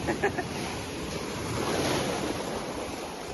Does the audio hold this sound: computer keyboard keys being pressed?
no